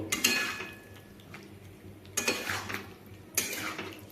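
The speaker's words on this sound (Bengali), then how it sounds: "দুই মিনিট পরে ঢাকা খুলে এইভাবে আমি এখন এগুলোকে ভালোভাবে কষিয়ে নেব" Potatoes and striped catfish being stirred in a pan, with three bursts of metal spatula scraping and clattering against the pan over a quiet, faint background.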